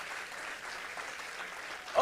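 Church congregation applauds during a Spanish-language worship service, with soft, steady clapping that carries on evenly and then ends in a brief louder sound.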